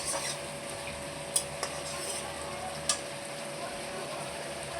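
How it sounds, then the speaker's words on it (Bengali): Potato pieces sizzle as they are stirred and fried in a pan, keeping up a constant hiss with a few sharp clinks of a spoon or spatula scraping the metal. "ভালো করে নাড়াচাড়া করে পুরো আলুগুলোকে সুন্দর করে ভাজবো লাল করে"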